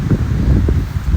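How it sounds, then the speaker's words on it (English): Gusty wind buffets close by in a national forest, a loud, low rumbling rush with brief swells and no other clear sounds. "Well, it's windy"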